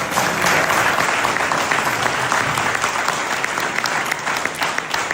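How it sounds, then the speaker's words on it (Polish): Sustained applause from a large crowd at a parliamentary debate on security, dense and steady clapping filling the whole stretch without pause. "Wielkie brawa dla tych ludzi, którzy w tej chwili są tam."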